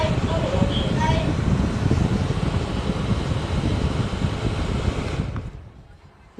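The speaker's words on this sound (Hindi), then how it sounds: "चलिए इसे हम रिमोट कंट्रोलर से ऑन करके दिखाते हैं" A Symphony Touch desert evaporative air cooler runs with a steady, loud whooshing fan rush heard up close. The noise stays even for several seconds, then cuts off abruptly near the end.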